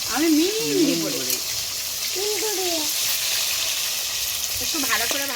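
Rohu fish fries in a pan with a continuous close sizzle, while a voice speaks in short bursts over it near the beginning, the middle and again at the end.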